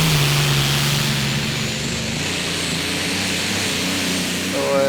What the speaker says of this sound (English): It's with a Allison V12 engine.